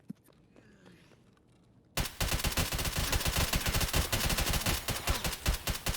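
Rapid automatic gunfire in Escape from Tarkov, offline PvP: quiet rustling gives way abruptly to a loud, sustained burst of dense shots lasting several seconds.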